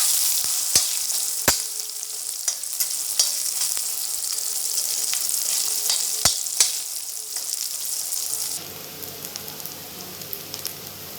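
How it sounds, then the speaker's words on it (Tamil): Soya chunks (meal maker) fry in hot oil until golden, a loud continuous crackling sizzle with sharp pops that softens and thins near the end. "இனி அதிகமாகி பொரிய வைக்கணும் பொன்னிறமாக பொரிய வைக்கலாம்"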